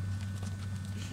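Spanish Mustang hooves clop softly on the ground at a walking pace, a few faint close steps over a low steady hum with no talk.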